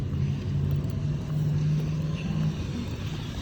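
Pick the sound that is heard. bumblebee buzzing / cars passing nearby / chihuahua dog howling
cars passing nearby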